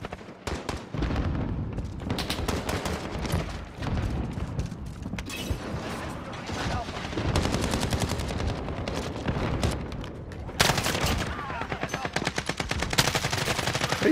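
Holger-26 light machine gun fire in Modern Warfare, with dense, rapid automatic bursts running almost continuously, loud and close, amid other in-game gunfire and effects.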